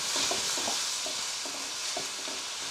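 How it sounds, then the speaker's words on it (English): Pieces of chicken fry and sizzle in a pan for Hakka noodles, with a steady hiss broken by regular scraping stirs as they are turned, close and fairly quiet. "It's frying already."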